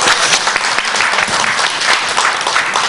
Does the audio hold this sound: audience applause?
yes